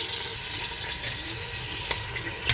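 Tap water runs steadily into a kitchen sink while a chorba with tomato and onion is being prepared, a continuous close hiss and splash with a couple of brief clinks.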